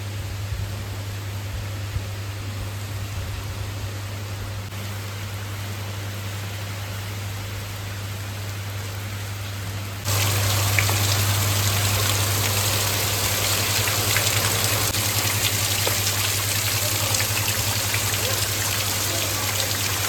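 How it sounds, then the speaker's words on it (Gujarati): Heavy rain pours down in a windy village, a steady dense hiss that grows noticeably louder partway through and holds at full strength, close and continuous with no voices. "તો મિત્રો ફાઇનલી વરસાદ આવી ગયો છે"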